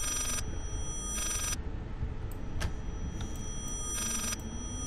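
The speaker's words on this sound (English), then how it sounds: "Let me answer the damn phone." Telephone ringing in the horror game Layers of Fear, repeated bursts of an electronic ring separated by pauses over a dark droning ambience, with a few faint clanks between rings.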